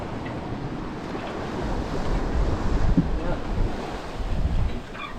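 Wind and sea surging around a sailboat at sea on passage to Alaska, steady broadband rush of gusts and waves with some microphone wind buffeting, loud and continuous throughout.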